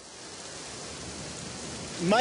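Rain falling steadily at a mine inside a volcano, a close, even hiss that swells slightly, with a voice breaking in at the very end.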